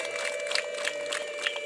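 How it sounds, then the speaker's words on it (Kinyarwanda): A church congregation applauding at a foundation-stone ceremony, steady mixed clapping and crowd noise, moderately distant and continuous with a constant tonal hum underneath. "mwiha amashyi menshi kubera"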